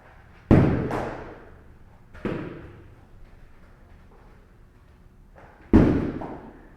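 Martial arts kicks strike a padded target in kung fu practice, four heavy thuds in uneven spacing, two close together at the start, another after a pause and a last strong impact near the end, each ringing briefly.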